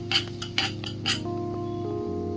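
Ground cumin and chili powder are stirred in a pan for paneer makhani, with several close, sharp scraping clinks of a spoon against the metal over a steady background hum, then a quieter stretch.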